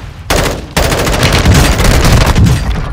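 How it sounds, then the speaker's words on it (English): Loud, rapid automatic gunfire in Call of Duty Modern Warfare II starts abruptly, breaks off briefly, then resumes as a sustained close burst. "Taking effective fire!"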